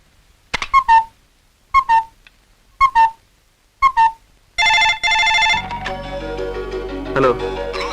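A phone rings for an incoming wrong-number call: four short electronic trill bursts evenly spaced and loud, then a brighter sustained melodic ringtone continuing to the end, with no talking.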